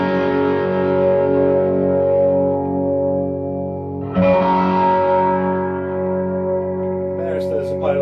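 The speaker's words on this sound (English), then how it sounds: "I'm going to the Enzo by Meris." Electric guitar played through a Meris Enzo synthesizer pedal, a long droning synth chord that fades slowly, then a new swelling chord with brief bright sputtering notes near the end, loud and alone.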